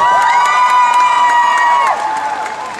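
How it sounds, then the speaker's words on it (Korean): A crowd at an outdoor stage show cheers, whoops and applauds loudly and continuously, close and dense, with a sustained tone ringing over it before the noise starts to ease off. "다시 한번 큰 박수 함성 부탁드리겠습니다"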